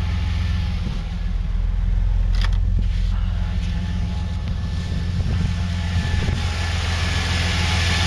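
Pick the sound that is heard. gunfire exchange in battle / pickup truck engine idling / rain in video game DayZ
pickup truck engine idling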